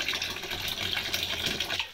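Water runs from a tap into a small container of shower gel, a steady close splashing pour lasting the whole moment with no voices.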